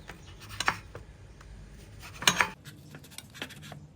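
A knife cuts soft, no-knead yogurt roti on a plate, giving a few light clinks and scrapes of metal on the dish at intervals, close and quiet, with no talking.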